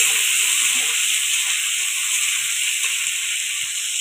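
Pumpkin greens sizzle in a hot pan while a spicy Bengali-style chorchori is cooked, a steady close hiss running through the whole stretch with no voices over it.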